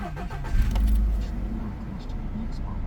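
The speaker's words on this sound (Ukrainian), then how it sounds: "Чули так? Запустився двигун." A 2004 Volkswagen Golf 1.4 petrol engine cranks and catches, then settles into a steady idle, with voices talking over it.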